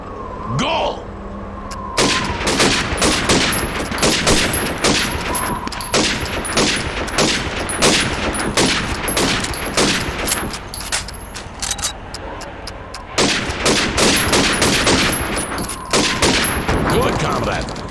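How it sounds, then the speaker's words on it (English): Rifle shots at helmet targets on a Soviet training course in the Call of Duty 2 video game, a rapid run of sharp, loud cracks with a brief pause midway, mixed with metallic pings and faint background voices. "You have 15 seconds to shoot the helmets"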